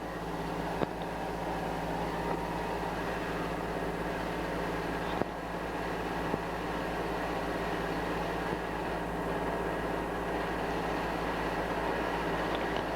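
Museum model trains running downgrade on a layout, a steady mechanical hum and rumble with a few sharp clicks and knocks, continuous and moderately close, no voices.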